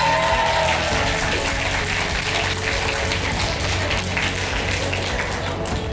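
Loud, continuous applause from a crowd at a university pharmacy students' farewell ceremony, steady clapping that stays strong from start to finish.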